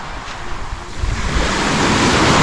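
Surf rolls onto the beach at Bauan, Batangas, a steady broadband wash that swells louder toward the end, with wind buffeting the microphone.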